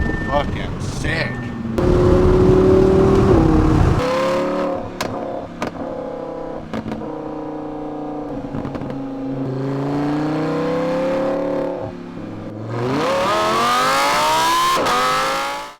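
A 2020 Audi R8 with the 5.2 V10 and an F1-style exhaust revs repeatedly and loudly close by, with rising and falling engine tones, a sharp high blip near the end, and a person talking over part of it.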